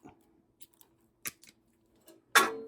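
Pliers cutting a snowblower's recoil rope make a few sparse, sharp snips and clicks in a quiet room, ending with one louder crunching cut.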